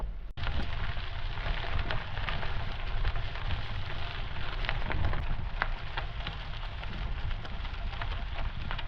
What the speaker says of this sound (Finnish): Taas tuli vesisade